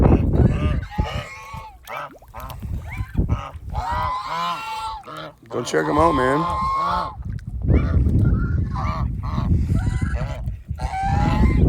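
Geese honk loudly and repeatedly nearby, overlapping nasal calls in irregular bursts, while someone talks between them.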